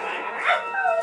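A dog in the Minecraft Story Mode video game barks and yips in a short, high burst followed by a whining call, close and clear, with game sounds beneath.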